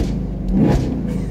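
A 2018 Chevrolet Camaro 1SS 1LE engine set to track mode gives a short, throaty rev that swells and falls over a steady rumble, close and loud with no talking.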